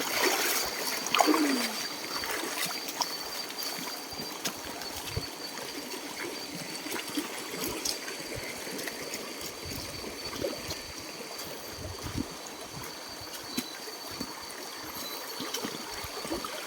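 River water flows and trickles steadily, with a continuous gentle wash and occasional small splashes, close by and fairly quiet, with no voices.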